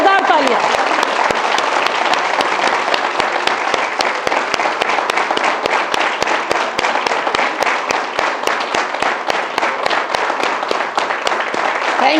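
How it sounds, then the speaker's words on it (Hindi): Loud, dense audience applause at a wellness-industry bootcamp event, sustained and steady for the whole stretch, with rapid overlapping claps and no let-up. "जोरदार तालियां।"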